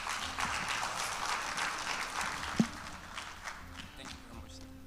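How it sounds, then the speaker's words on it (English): Scattered applause from a conference audience, fairly distant and fading, with a few louder claps and some background voices. "a big round of applause for the CEO"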